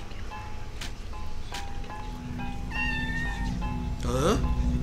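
A cat meows a few times in the video game Off, brief and fairly clear, over a steady low background hum and some faint rustling.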